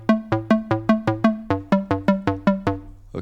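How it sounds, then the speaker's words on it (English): A synthesizer square bass made with DRC plays a quick run of punchy, evenly spaced notes, each with a sharp attack and short decay, alone and fairly loud. "which is kind of a square bass that sounds like this."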